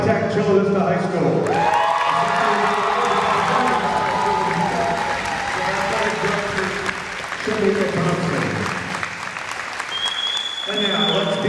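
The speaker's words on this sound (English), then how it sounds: "Please now join me in applauding the 2019 Division IV runner-up, the Bruins of High Tech Chula Vista High School." Loud, sustained applause and cheering from a high school volleyball crowd honoring the 2019 Division IV runner-up team, with an announcer's voice heard over the clapping.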